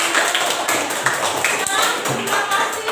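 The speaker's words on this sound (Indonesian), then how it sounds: "Tepuk tangan dulu untuk Selin." A classroom full of people clapping steadily in dense applause, with a few voices mixed in under the clapping.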